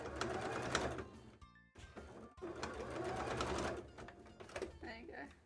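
A sewing machine stitches pieces of a cosplay tail together in rapid bursts with brief pauses, its whirring motor close and fairly loud, while a voice talks over it.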